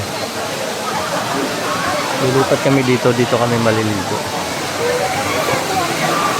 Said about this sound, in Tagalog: Dito galing yung tubig ng falls